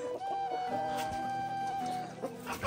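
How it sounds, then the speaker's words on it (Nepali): Chickens cluck and call close by in a Zambian setting, a short run of drawn-out clucking notes and fowl calls over a busy background with faint tonal hum. "दुइटा कुखुरा लियो हामीले"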